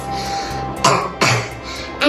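Several short, forceful human coughs, three broadband bursts spaced about half a second apart over a low background with faint voice traces nearby.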